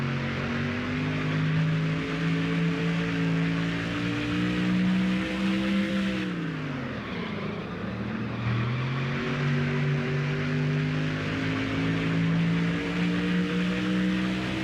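A NASCAR race car engine in the NASCAR Thunder 04 video game during a qualifying lap, holding a steady loud drone that dips as the car lifts through a turn and then climbs back to full revs.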